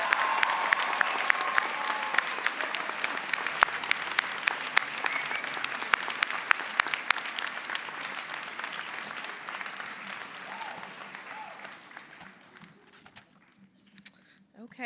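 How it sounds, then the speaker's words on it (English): Commencement crowd applauding its graduates: a loud, thick roar of clapping that gradually thins and fades toward the end, leaving scattered claps and a voice speaking as it dies away. "Please join me in sharing a round of applause for all of our remarkable graduates today."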